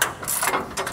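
Socket wrench ratcheting a bolt on a Lista cabinet in a home garage, a few quick close clicking bursts in an uneven rhythm.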